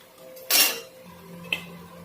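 Fried mutton being lifted from the pan, a metal spoon scraping and clinking against the cookware in two brief knocks, close and without talk.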